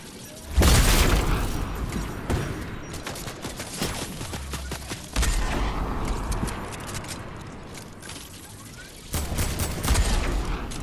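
Gunfire in the Fortnite video game comes in sharp bursts and fusillades with booming impacts, some bursts loud and some farther off, spread across the whole stretch.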